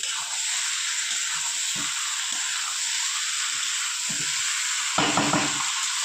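Fried eggs and soybean chunks go into masala cooked down in oil, and a loud, steady close-up sizzle continues throughout, with a thicker burst of frying and stirring near the end.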